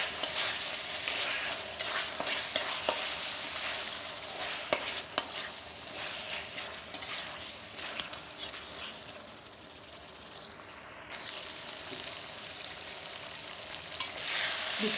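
Rice with garam masala frying and being stirred in a pot, a continuous sizzle broken by scraping spoon strokes and light clinks, close up, easing briefly before the stirring picks up again.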